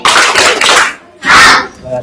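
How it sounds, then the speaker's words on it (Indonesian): Classroom of students clapping together in unison, two loud, sharp bursts of clapping in a structured clap pattern, close and tightly synchronized with a short pause between them. "Tepuk rapi."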